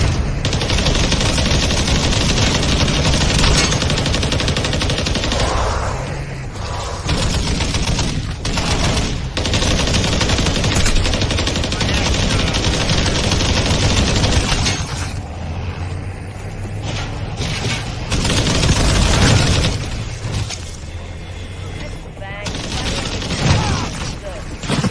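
Rapid machine gun fire in a video game, sustained and dense bursts rattling on nearly throughout, with engine-like rumble and other game effects mixed in and a voice talking over parts of it.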